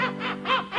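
A human voice imitates squawking seagulls in three quick nasal cries to set a cruise ship ambiance, close and alone.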